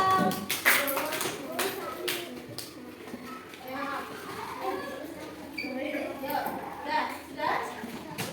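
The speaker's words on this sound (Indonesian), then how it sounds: "Tepuk tangan untuk kelompok visual." A classroom of students claps for a student group during a lesson, a burst of scattered hand claps near the start that fades into children's voices and chatter, fairly close.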